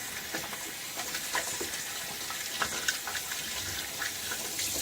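Water runs steadily from a tap while shaving lather is rinsed off, a broad continuous hiss with small splashes, moderately close and without any talking.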